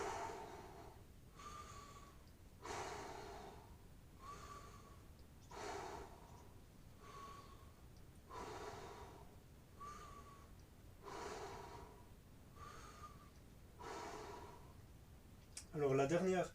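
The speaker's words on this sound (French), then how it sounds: "on fait de nouveau 6 respirations" Slow, deep breaths during a fascia stretching exercise, a steady cycle of audible inhales and exhales about every one and a half seconds, close and fairly soft, ending in a brief louder sound.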